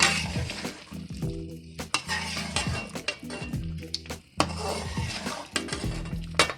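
Chicken karahi and spices are stirred and mixed in a pan with loud, close scraping and clinking strokes of a utensil against metal under a light sizzle, with music playing throughout.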